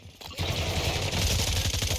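Rapid automatic gunfire in the shooter game Warzone 2.0, a dense sustained burst of shots, loud and close, with no talk over it.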